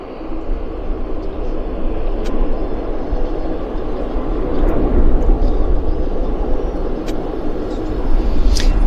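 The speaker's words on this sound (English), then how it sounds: "We got a rotation. Yeah. Westjet in the new livery." A WestJet airliner in new livery rotating on takeoff at Vancouver Airport, its steady broadband jet roar loud and sustained, swelling slightly toward the end.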